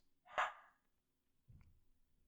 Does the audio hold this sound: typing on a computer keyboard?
no